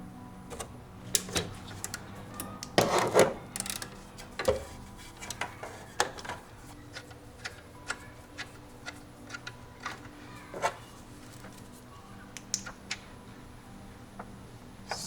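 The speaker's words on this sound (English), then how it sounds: "With your 17mm socket, you want to remove this bolt back here." 17mm socket ratchet working an alternator bolt loose on a BMW E46 M3, irregular close clicks and metallic ticks with a louder clattering burst near the start, no talking.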